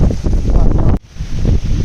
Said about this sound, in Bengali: এদিকে এত হাওয়া হচ্ছে